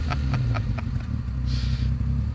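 A 1985 Alfa Romeo 90 2.5 Gold Cloverleaf with factory exhaust, heard close up: a few quick starter clicks over a low, rumbling idle that settles into a steady, throbbing tone.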